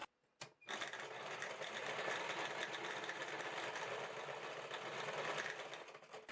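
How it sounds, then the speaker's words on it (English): A sewing machine runs steadily for several seconds, stitching a bag upcycled from old boots, with a brief pause and click before the motor settles into a continuous, close, even whir. "And you're just going to stitch."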